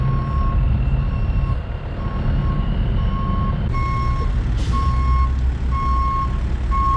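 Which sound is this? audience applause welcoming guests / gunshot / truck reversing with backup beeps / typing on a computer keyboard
truck reversing with backup beeps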